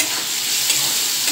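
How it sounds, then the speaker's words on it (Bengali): Pumpkin pieces fry in a pan in a home kitchen, giving a brief, dense, close-up hiss that stays loud and even throughout, with no voices. "এখানে কুমড়ো ভাজা বসিয়ে দিয়েছি"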